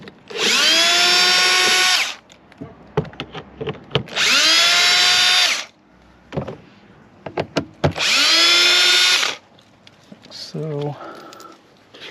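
Power drill driving out the screws of a rear door panel on a 2014 Ford Focus, three sustained whirring bursts of about two seconds each, loud and close, separated by quieter clicks and handling noise.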